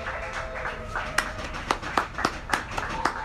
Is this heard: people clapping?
yes